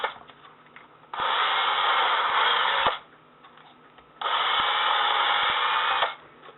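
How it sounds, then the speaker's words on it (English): A power drill whirs in two bursts of about two seconds each, loud and close, drilling mounting holes for a Tortoise model railway switch machine, separated by quieter pauses with light handling noise. "All you have to do is just run the drill in, run it back out again."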